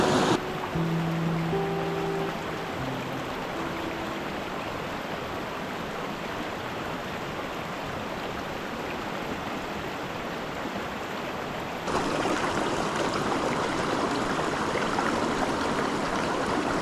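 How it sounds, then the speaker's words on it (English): A tiny mountain stream in winter, fished for native brook trout, flows steadily and close by in a continuous broadband rush that grows slightly louder and brighter toward the end, with no talk over it. "I'm down here, beautiful little stream."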